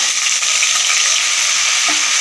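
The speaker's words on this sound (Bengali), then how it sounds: "আদাটা ভালোভাবে ফ্রাই করে নেব" Ginger paste fries in hot mustard oil in a wok along with dried red chillies and bay leaves, giving a loud, steady, close hiss of sizzling that runs without a break.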